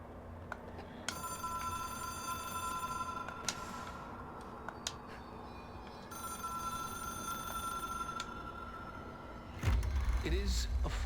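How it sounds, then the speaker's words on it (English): A telephone in the video game Control rings in repeated electronic trills, two long ringing bursts separated by a pause, over a steady low hum, before a heavier rumble at the end. "It is a phone."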